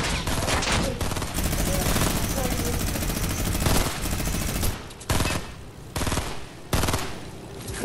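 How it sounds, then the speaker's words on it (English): Rapid sustained minigun fire in a video game, loud and dense for several seconds, then breaking into shorter bursts with brief gaps; voices talk faintly underneath. "Yeah, you'll break that minigun out."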